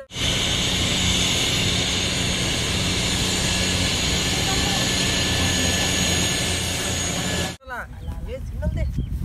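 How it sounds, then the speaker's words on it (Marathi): A helicopter flying overhead makes a loud, continuous rotor and engine roar that fills the scene for several seconds before cutting off abruptly, followed by brief voices. "हेलिकॉप्टर आला वाटतं."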